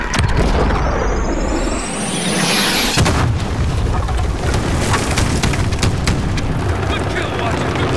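A large explosion brings down a furnace in Call of Duty: Modern Warfare, a loud rising whoosh breaking into a heavy blast around three seconds in, followed by a sustained roaring rumble and debris.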